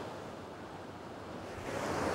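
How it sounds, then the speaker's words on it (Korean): Surf crashing against a rocky shore at Watsons Bay, Sydney, a steady loud wash of breaking water that swells louder near the end, with wind buffeting the microphone and no talk. "네가 오니까 파도가 세진 거야"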